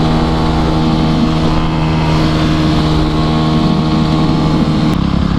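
Dirt bike engines drone steadily and loudly as the riders cruise city streets, with a constant buzzing hum and no voices.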